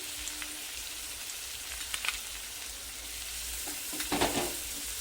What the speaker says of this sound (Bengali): এবারে এটাকে খুব ভালোভাবে কষাবো, যতক্ষণ না তেল ছেড়ে আসে মশলা থেকে